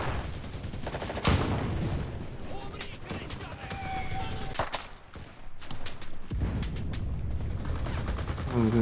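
PPSh submachine gun fire in the World War II shooter game Enlisted: sharp bursts and scattered shots, with distant battle noise and someone talking over them.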